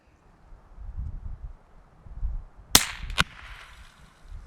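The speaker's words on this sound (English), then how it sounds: "Nope, I hit the stump beside the egg." A Chiappa Little Badger rifle fired outdoors at an egg target, the round striking a stump beside it: a sharp crack with a second snap moments later, over soft wind and rustling.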